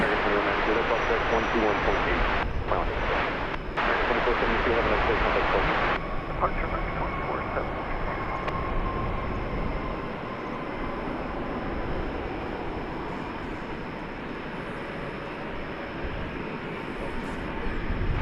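An American Airlines passenger jet approaches DFW Airport, its loud, steady broadband engine roar filling the whole stretch with a slight shift partway through, while voices talk over it.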